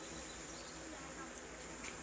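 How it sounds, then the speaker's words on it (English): A steady, dense buzzing of many honey bees, close by and continuous, with no voices. "Here are my bees after a very rainy night."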